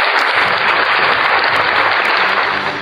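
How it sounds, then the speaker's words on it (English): A trivia night audience claps loudly and continuously, with a dense crowd of hands close and steady throughout. "Round of applause for that."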